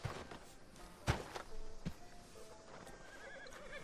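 Hooves clop and a horse whinnies in Red Dead Redemption 2, with sharp hoof thuds standing out over a busy town backdrop, then steady walking hoofbeats carrying on through the rest.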